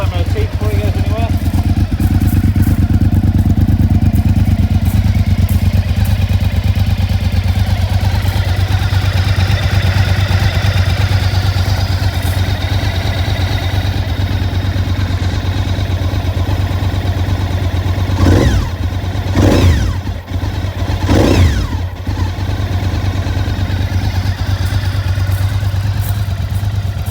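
A Honda VTR 1000 SP1 motorcycle engine runs loud and steady close by for the whole stretch, with a few sharp throttle blips near the end; someone talks over it.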